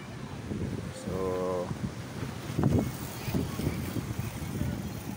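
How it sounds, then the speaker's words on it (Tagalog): Steady wind rumble buffets the microphone outdoors at Caliraya Lake in Lumban, Laguna, with people talking over it and a brief whine passing near the middle. "ang lakas ng hangin"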